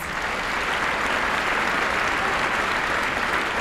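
Steady, dense applause from a large crowd at a school Veterans Day assembly honoring veterans and active service members, loud and continuous throughout with no pauses.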